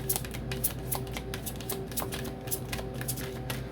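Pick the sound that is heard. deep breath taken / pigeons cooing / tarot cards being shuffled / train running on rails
tarot cards being shuffled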